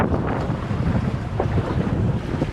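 A fishing boat rides rough water on Lake Erie, with steady roaring wind buffeting the microphone and waves slapping the hull, loud and continuous.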